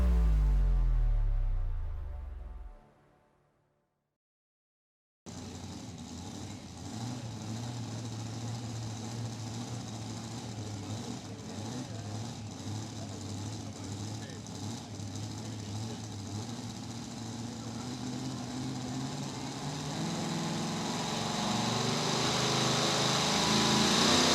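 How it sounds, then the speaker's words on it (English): A super modified two-wheel drive truck engine at the 2024 Hillsboro tractor pull gives a sustained, fairly distant roar after a brief quiet gap, swelling louder toward the end with no talk over it. "Nice run for Randy Groves to start our super modified two-wheel drive truck division"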